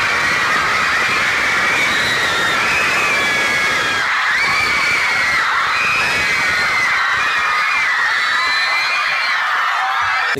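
A concert crowd in Sao Paulo screams and cheers at a hot, packed show, a dense, loud wall of high shrieks and whoops that carries steadily from start to finish.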